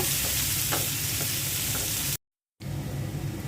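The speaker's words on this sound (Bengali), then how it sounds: "পেঁয়াজটা হালকা করে ভেজে নেব" Sliced onion frying lightly in hot oil left over from frying fish, a steady loud sizzle with occasional stirring scrapes, cut briefly by a moment of silence before the sizzle resumes.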